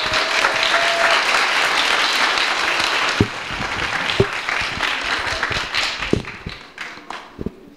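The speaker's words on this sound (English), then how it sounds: "let's give these guys a round of applause." Many hands clap for Cub Scouts at a blue and gold banquet: a full, steady burst of applause that thins into scattered individual claps and a few sharp taps or knocks as it dies away.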